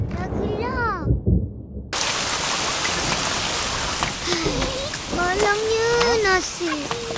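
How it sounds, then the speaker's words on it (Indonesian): Steady rain falling hard and close in an animated children's story, with a voice speaking before it and speech continuing over the downpour. "Sekarang pula basah kena hujan."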